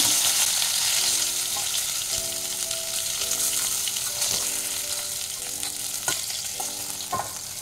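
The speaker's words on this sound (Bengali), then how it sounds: "মাছগুলো এইভাবে ভাজা করে নিতে হবে।" Fish pieces fry in hot oil in a pan for a Bengali-style fish curry, making a steady, close sizzle broken by occasional clinks from turning and stirring.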